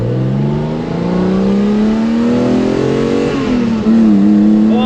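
A BMW M1's engine revving and accelerating during a ride at a BMW club anniversary event, a loud, sustained mid-pitched engine roar that rises steadily in pitch, then dips briefly and climbs again, heard from inside the car.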